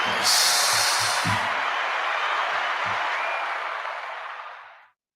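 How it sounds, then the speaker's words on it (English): A crowd bursts into a round of applause, dense clapping that swells at once, holds steady and then fades out over a few seconds, with a few low thumps early on. "Let's give everybody a round of applause."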